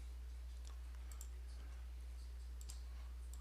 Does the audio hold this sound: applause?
no